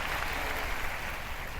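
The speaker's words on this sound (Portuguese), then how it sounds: "um grande aplauso aos nossos irmãos que nos visitam" A church congregation applauds steadily, a dense, even wash of clapping that holds without a break.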